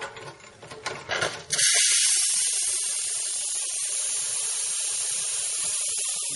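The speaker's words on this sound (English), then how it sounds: "the steam wand is incredible" Steam wand on a lever espresso machine from 2011, about 6 to 7 kilos, opens with a sputtering, clattering burst and then settles into a loud, steady, broadband hiss that carries on to the end.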